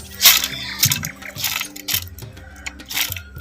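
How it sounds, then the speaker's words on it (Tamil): A little water is poured into a mixer jar of soaked ingredients for a Chettinad Diwali snack batter, giving a few short splashy pours and drips in quick bursts, close and moderately loud. "கொஞ்சமாக தண்ணி ஊற்றிக்கிறோம் ரொம்ப தண்ணி ஊற்றக்கூடாது"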